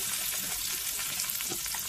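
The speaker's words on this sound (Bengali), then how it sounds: "টমেটোটাও তেলের উপরে ভালোভাবে নেড়ে চেড়ে নেব।" Chopped tomato stirred in hot oil for a fish curry, producing a dense, even crackling sizzle close by with soft stirring scrapes, no talking.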